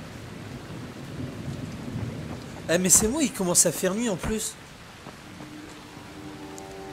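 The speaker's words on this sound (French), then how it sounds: "Oh, il pleut, c'est la meilleure celle-là." Steady rain and low rolling thunder in the zombie survival game Dying Light, a continuous wash under someone speaking French, which briefly grows louder mid-way.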